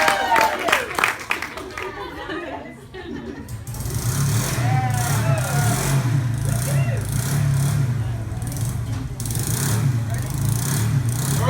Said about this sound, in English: I'm gonna go start a bike.